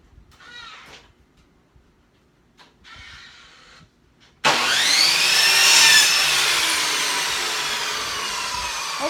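Power tool trimming a wooden board for an outdoor patio lounger, a loud continuous cutting whine that starts abruptly after a few quieter scraping sounds and runs steadily to the end.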